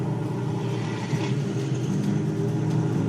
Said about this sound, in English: And then put a little bit of gas on.